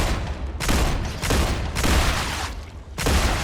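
Gunfire from a player's gun in a factory-building game on a bug-infested planet, heard as several loud sustained bursts separated by brief pauses.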